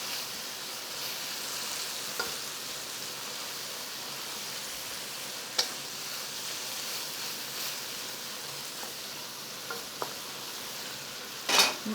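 Pad thai stir-frying in a wok, giving a steady low sizzle with a few sharp clicks of a utensil against the pan. It sounds near and even, with no talk.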